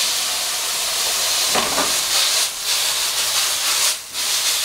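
Small portions of beef stir fried in hot oil, a loud, steady, close sizzle and hiss filling the whole clip, dipping briefly twice as the pan is tossed, with no talking.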